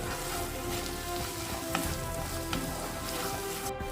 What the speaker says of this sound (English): Into this I will now add the ginger garlic paste. We will fry this for another 2 to 3 minutes